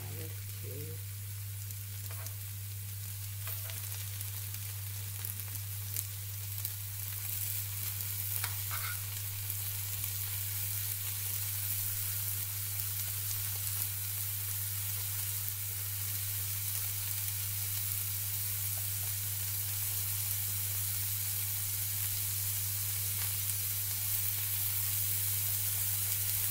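Chopped garlic sizzles and fries in a pan alongside a softened shallot for a lamb casserole, a steady, close, crackling hiss running throughout with occasional light clicks of stirring.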